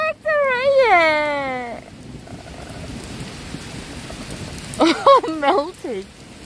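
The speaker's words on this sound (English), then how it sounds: "I didn't expect the rain." Steady rain falling during a summer thunderstorm, a broadband hiss running through the whole stretch beneath loud excited voices at the start and end.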